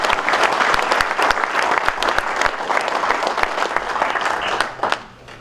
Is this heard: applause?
yes